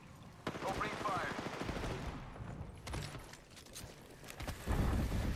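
Gunfire in the video game Apex Legends, a rapid volley of sharp shots with mechanical clatter, fairly quiet overall, with a heavier burst near the end.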